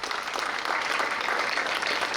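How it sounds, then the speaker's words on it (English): A dense, steady round of applause fills the hall at a school science exhibition inauguration, many hands clapping together, sustained and fairly loud throughout with no voices over it. "A thunderous round of applause for their perseverance and creativity."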